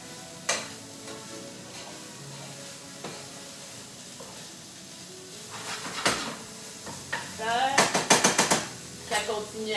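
Green peppers sizzle softly in a pan with occasional clinks of a utensil against the metal, a faint steady frying hiss under sparse scraping that grows busier with clattering toward the end.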